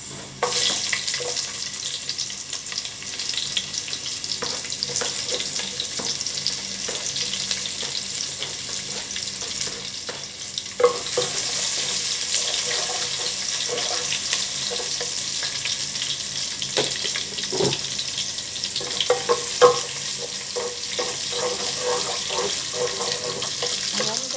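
Onion and garlic fry in a pan for chicken tinola, a steady, fairly loud hiss of sizzling oil with scattered stirring scrapes and clinks, running without a break.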